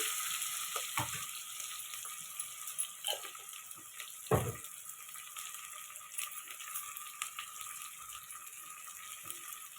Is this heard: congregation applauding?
no